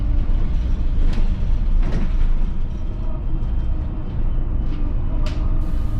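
Inside an electric city bus on route 13 toward Morschwiller-le-Bas, a steady low rumble of road and cabin noise fills the space, with the motor barely noticeable and a few brief hissing or mechanical bursts rising over it.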